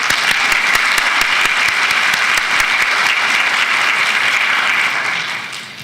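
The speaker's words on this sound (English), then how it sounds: "Graduates, let's give them a round of applause." A graduation celebration audience applauds graduates' families and supporters, dense loud clapping from a large crowd that holds steady for about five seconds before starting to fade.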